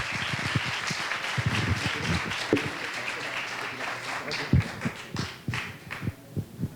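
An audience applauding guest speakers at a university lecture, with uneven clapping that thins into scattered claps and faint voices toward the end.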